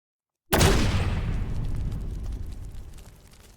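A single deep explosion erupts suddenly after silence, its rumbling boom slowly fading over a few seconds.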